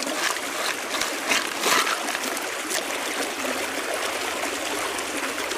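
Flooded creek in Victoria, Australia, rushing and splashing in a steady, dense broadband wash, constant and fairly loud with no talk.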